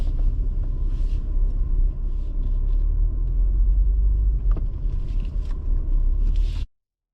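A BMW drives across an off-road course, its engine a steady low rumble close by throughout, with faint scrapes and knocks over the terrain, then cutting off abruptly near the end.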